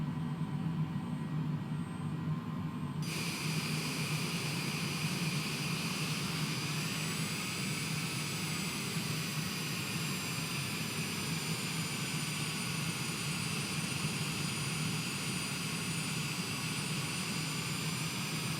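Jet airliner engines in a flight simulator at Albany, a steady loud whine and roar that rises sharply after a quieter start and then holds, with no voices.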